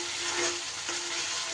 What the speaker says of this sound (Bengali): এটা দিয়েও আবার খুব ভালো করে আমাকে কষিয়ে নিতে হবে